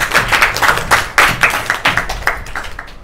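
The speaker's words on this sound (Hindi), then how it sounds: "चलो ताली बजाओ एक बार इनके लिए।" An audience bursts into a few seconds of brisk, close hand clapping, steady and uneven in rhythm, with no talk over it.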